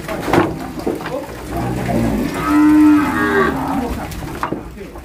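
A Nelore cow gives a long, loud moo up close, rising in the middle, with faint farmyard noises around it, during cattle vaccination.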